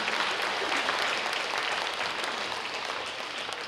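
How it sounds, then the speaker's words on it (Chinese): Attendees at the Northern California Taiwanese seniors' association 2018 annual meeting applaud anonymous donors, a steady, fairly soft hall-wide clapping that holds evenly throughout without talk. "咱甲鼓掌，把这些无名氏鼓掌吼"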